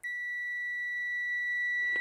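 An Aneng AN8009 multimeter gives a continuous high, pure continuity beep during a test, steady and clear from start to end, with a small click near the end.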